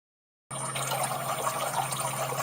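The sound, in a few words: water flushing from reverse osmosis unit tank into glasses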